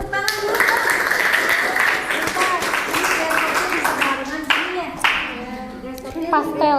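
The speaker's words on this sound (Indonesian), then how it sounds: "Terima kasih, tepuk tangan dulu." Students clap their hands together after a talk at a Ramadan school event, a dense burst of applause from a group indoors, with people talking over and around it as the clapping continues.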